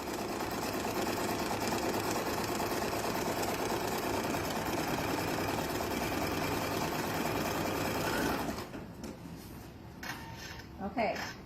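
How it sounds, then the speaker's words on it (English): An embroidery machine stitches a line in the hoop while piecing a quilted mug rug, a steady rapid mechanical whirring that runs continuously for about eight seconds and then stops, leaving quiet handling noises. "And now it's stitching a line"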